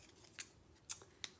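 Fiskars scissors cutting a canvas frame, three sharp separate snips, quiet and close.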